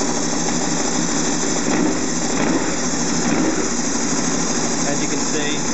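A warmed-up Honda VFR800 sixth-generation motorcycle engine idles steadily at close range, a dense continuous mechanical hum with no change in pace, while a person talks over it.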